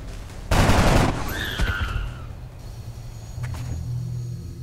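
A single loud gunshot from a soldier's weapon in XCOM: Enemy Unknown, a sharp blast followed by a rumbling tail and faint game effects, with no talk over it.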